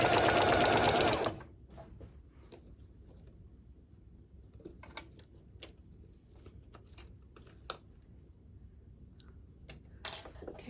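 A sewing machine stitches fabric in one loud, fast, whirring burst lasting over a second. Scattered soft clicks and handling noises follow in a quiet room.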